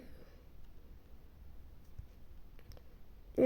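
A few faint, sharp clicks at irregular intervals over a quiet room hum, ending with a slightly louder click.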